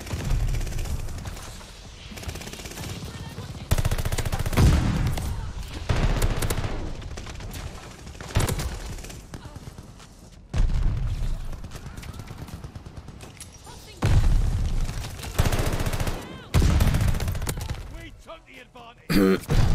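Automaton rifle fire in Call of Duty Vanguard, rattling off in repeated rapid bursts separated by short pauses across the whole stretch, loud and close, with a faint voice talking now and then.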